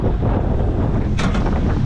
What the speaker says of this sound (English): pretty wild. It's windy.